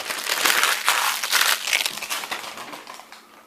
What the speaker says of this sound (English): now we peel our protective film off